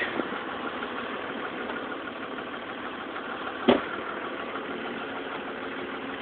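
A tractor engine idles steadily and continuously at moderate volume, with one brief knock or clunk partway through; no voices.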